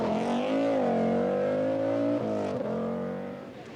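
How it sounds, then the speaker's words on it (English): An Audi Coupe Quattro rally car at the 1987 Circuit of Ireland sweeps past with a loud, near engine howl that holds a high pitch, drops as it shifts gear, then fades away. "Sebastian Lindholm in the Audi Coupe Quattro is the man who sweeps past"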